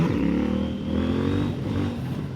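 An 800NK motorcycle fitted with an up-and-down quick shifter accelerates hard, its engine note rising in pitch, breaking briefly at a shift, then climbing again, loud and close.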